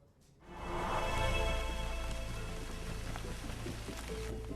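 Unseasonal rain mixed with hail pouring down steadily on farmland, a dense hiss that swells in after a quiet start and then stays loud and constant, with no voices.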